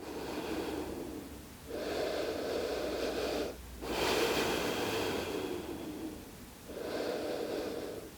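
Slow, deep breathing during a relaxing yoga pose: long airy inhales and exhales in repeating cycles, close and steady, with no talking.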